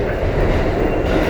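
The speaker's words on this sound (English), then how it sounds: "I'm on the 7 train" An NYC MTA 7 subway train rides on the rails, heard from inside an empty car as a steady, loud rumble with a continuous low roar and rattle and no talking.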